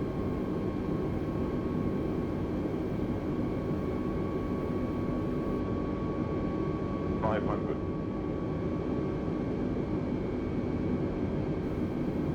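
FlyByWire A32NX airliner on approach in Microsoft Flight Simulator, its steady engine and cockpit drone holding at a constant level throughout, with a brief higher-pitched chime or tone partway through.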